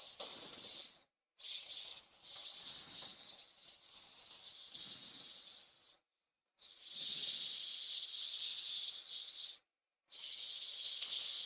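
Dust extraction in a woodturning workshop, a steady airy hiss that starts and stops in several bursts with short silent gaps between them.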